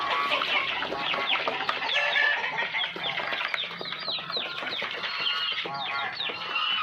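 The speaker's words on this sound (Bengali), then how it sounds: "এটাও আসিল, সাদাটা মোরগটা সবই আসিল" Aseel chickens and a long-tailed Aseel rooster cluck close by, a busy overlapping stream of clucks and short calls from several birds, no talk heard.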